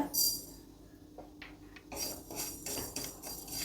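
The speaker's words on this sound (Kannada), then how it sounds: "ಇಲ್ಲಿ ಎಲ್ಲ ಸಾಮಗ್ರಿಗಳನ್ನು ಡ್ರೈ ರೋಸ್ಟ್ ಮಾಡ್ತಾ ಇದ್ದೀನಿ" Spices and lentils dry roasting in a pan without oil for sesame chitranna make scraping, rasping stirs with light clinks of a spatula against metal, in irregular strokes that grow busier in the second half.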